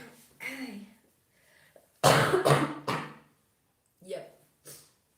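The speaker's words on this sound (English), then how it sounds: "I think I coughed only like 5 times this time" A person coughs in a loud, harsh burst of several quick coughs in the middle, with a softer cough or throat sound before it and two brief quieter coughs near the end, amid quiet room tone.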